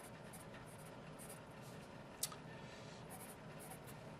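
An HB No. 2 Palomino Golden Bear pencil writes on paper, a faint, close, soft scratching that runs steadily with one brief sharper tick partway through.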